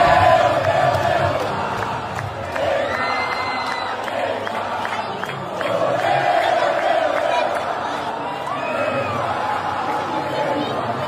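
A football crowd at Vila Belmiro chants Neymar's name, a large stadium mass of voices swelling in rhythmic waves of shouting and cheering, with a commentator talking over it.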